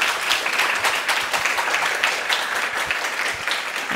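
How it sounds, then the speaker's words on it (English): Dense, loud applause from a lecture audience at the end of a talk on artificial intelligence at the National Library of Norway, a continuous wash of clapping sustained throughout. "Thank you so much, and give another round of applause."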